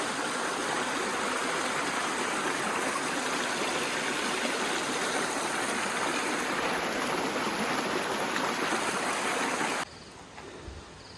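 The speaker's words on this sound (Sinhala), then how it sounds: "ඉතින් මෙහි සත්තුන්ගේ සද්දයි වතුර සද්ද විතරයි ඇහෙන්නේ" Water flowing steadily along the Adam's Peak trail at night, a constant broadband rushing like a nearby stream, continuous and fairly close, dropping abruptly quieter near the end.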